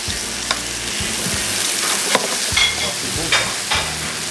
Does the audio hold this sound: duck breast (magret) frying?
yes